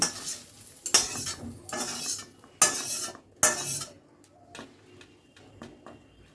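Green beans being stirred in a pan, with a handful of sharp metallic scrapes and clinks of utensil against the pan, spaced irregularly over a faint sizzle, growing softer and sparser toward the end.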